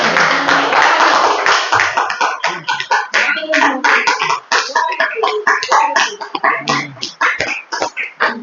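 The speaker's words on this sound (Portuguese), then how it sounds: "E as palmas do bom Senhor." Congregation clapping during a church worship service marking a 46th anniversary, a dense burst of hands that starts as a thick wash, then thins into scattered, uneven claps.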